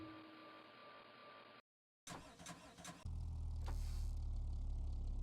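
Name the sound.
car engine revving in Revhead video game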